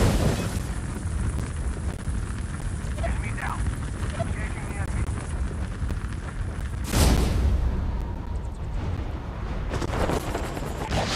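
A Call of Duty match with loud in-game explosions: a dense, rumbling battle roar fills the mix, broken by a big booming blast midway and another burst near the end.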